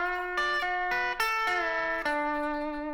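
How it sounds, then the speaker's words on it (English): Electric-style guitar plays a country lick, bending the second scale degree up to the third while picking moving notes above it; a few crisp, close single notes with audible pitch bends, no voices. "we're going to bend the 2 up to the 3 while moving some notes above it"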